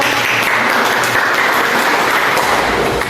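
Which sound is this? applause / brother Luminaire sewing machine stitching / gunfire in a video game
applause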